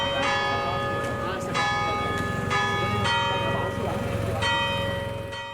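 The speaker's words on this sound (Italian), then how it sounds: "seguiamo il suono delle sue campane" Church bells of the church of Santo Stefano in Caorle ring out in a steady, repeated pattern of resonant strikes, moderately loud with rich ringing overtones and a low hum beneath.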